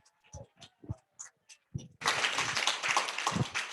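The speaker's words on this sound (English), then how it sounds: "So let's give her a round of applause" Applause for Heather, a graduating student about to start an internship, bursts out loud and dense from many hands after a couple of seconds of scattered, separate claps.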